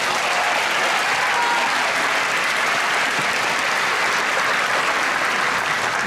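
A large audience at a navy concert gives a singer dense, loud, continuous applause, a thick wash of clapping that holds steady for the whole stretch without pause.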